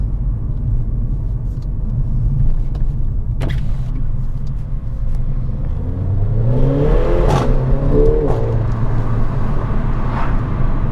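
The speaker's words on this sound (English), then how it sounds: "That's what I mean about the exhaust." A Mercedes CLA 45 AMG engine rumbles steadily, then revs up with a rising exhaust roar before settling back, loud and close.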